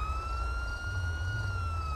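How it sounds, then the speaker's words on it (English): Police car sirens in the GTA FiveM video game wail steadily and loudly with a sustained tone over a low engine rumble, continuous throughout with no talk. "The sirens are quite loud."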